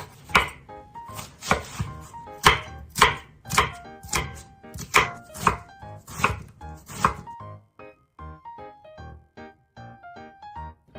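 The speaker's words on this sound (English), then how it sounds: "let's finally chop the fresh onion" A knife chopping fresh new onion on a cutting board, a steady run of sharp close knocks roughly twice a second for about seven seconds, with light background music continuing after the chopping ends.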